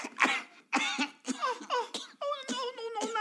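Tiny Tim from A Muppet Christmas Carol coughs weakly in a series of short, breathy, hacking bursts, close and alone, the last ones turning more voiced and wheezy.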